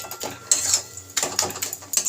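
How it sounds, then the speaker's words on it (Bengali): A metal spatula stirs and scrapes greens in a pan in short rhythmic bursts, with bright clinks against the pan over a faint sizzle. "খুন্তি দিয়ে শাকগুলোকে একটু নেড়ে দিতে হবে"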